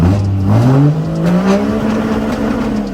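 A heavy diesel truck engine revs up and down nearby, its pitch rising as the truck pulls away, with no talking.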